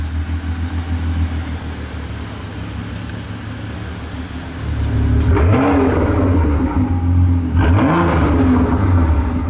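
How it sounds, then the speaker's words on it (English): A turbocharged BMW M2 engine idles with a steady rumble, then revs up twice in rising, burbling swells with a whooshing turbo whir; loud and close. "The way you can hear the turbos in that is really good. And it burbles away."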